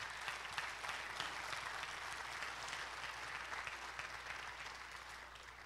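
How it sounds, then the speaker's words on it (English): Sustained applause from a church congregation, dense and even, somewhat faint and distant, continuing throughout. "Would you guys give them a round of applause one more time?"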